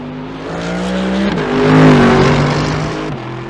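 A Mercedes-AMG GT3 2020 front-engined race car engine in iRacing revs hard and climbs through several gear changes, its pitch rising and dropping with each shift, loud and close throughout.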